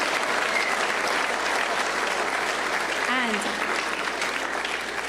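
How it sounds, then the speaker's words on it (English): A room full of people applauding steadily at close range, dense clapping sustained for the whole stretch with a brief voice-like tone rising partway through. "they're clapping for it."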